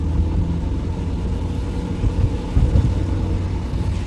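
Peugeot 206 8-valve engine droning while driving in rainy weather, a steady low rumble of engine and road noise heard from inside the cabin with no speech.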